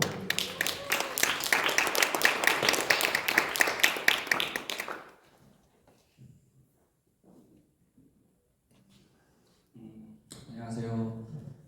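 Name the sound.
church congregation applauding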